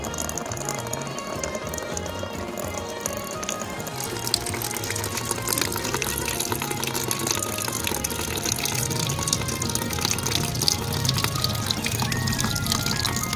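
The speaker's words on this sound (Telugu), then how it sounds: "చూడండి, రోజు ఉదయాన్నే నీళ్ళు ఇలా తాగిద్ది." An animal drinks water from a bucket in the early morning, with continuous sloshing and dripping water noise at close range.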